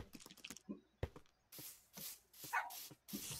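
Puppy sounds from the Minecraft video game: a few short yips and barks near the start, then quieter whimpering bursts spaced through the rest, with no talk.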